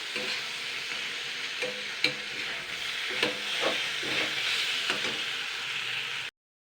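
Potato katli with chopped dried chilli and coriander leaves sizzling in a pan, a close steady hiss broken by a few soft scrapes of stirring before cutting off abruptly.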